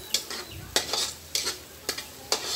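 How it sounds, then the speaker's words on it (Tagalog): Onion sizzles in a frying pan as the base for tinolang bangus, with about six regular scraping stirs of a utensil against the pan over a constant crackle, heard up close with no talking. "Gisa-gisa lang po yan"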